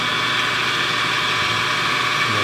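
Constant mechanical whirring and buzzing from a model helicopter driven by a Stirling engine running at 1400 RPM, steady and close with no voices.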